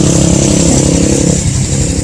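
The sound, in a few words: motorcycles and 4-wheelers riding up a dirt road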